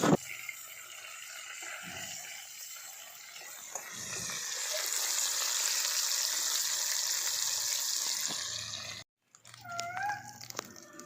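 Fish pieces frying in hot oil, a steady crackling sizzle that swells and fades, broken near the end by a brief silence and a few clattering sounds.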